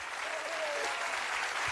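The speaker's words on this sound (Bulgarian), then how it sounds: "Велики аплодисменти за Криско!" A studio audience at a televised celebrity impersonation show claps in steady, dense applause that holds evenly throughout, with a faint voice briefly audible underneath.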